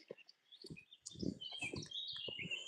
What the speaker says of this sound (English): Isn't that chirping?